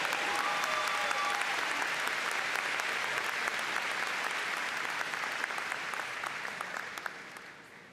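A commencement audience applauds a newly conferred doctor, Dr. Bennett, in a long, dense wash of clapping that holds steady for most of the stretch, then begins to thin and fade toward the end.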